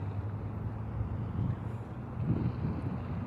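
Breezy spring wind buffets an outdoor microphone, a low steady rumble swelling in gusts with no voices heard.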